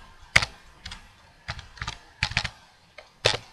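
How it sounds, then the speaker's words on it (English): Short clusters of keystrokes on a computer keyboard, light clicky taps in separate bursts with quiet pauses between, close and fairly soft. "you just type in whatever you're going to do"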